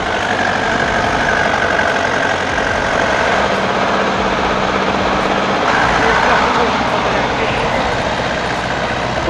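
A DT-75 crawler tractor's heavy diesel engine labours steadily under load as it works free, a loud, continuous low rumble. Voices can be heard over it.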